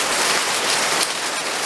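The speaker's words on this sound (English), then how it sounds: "There's more hailstones now." Heavy rain mixed with hailstones pours down outdoors in a garden in May, a dense, loud, continuous hiss of drops striking surfaces with no voices.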